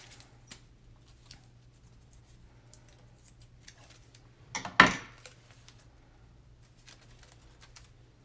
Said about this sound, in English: So I'm going to cut some washi that comes in your DigiKit